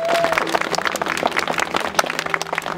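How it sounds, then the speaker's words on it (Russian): A room full of people applauds at a wedding registration ceremony in a steady, dense wash of clapping that carries on throughout, with faint music in the background. "Ваши аплодисменты, друзья"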